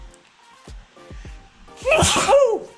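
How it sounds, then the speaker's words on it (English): A single loud sneeze bursts out close by after a few soft breathy sounds. "I'm just going to sneeze."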